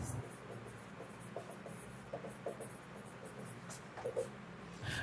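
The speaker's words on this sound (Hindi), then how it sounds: "अब मैं लिख सकता हूं" Faint, scratchy strokes of writing on a board during a Class 11 chemistry lesson, soft and intermittent over a low room hum, with no talking.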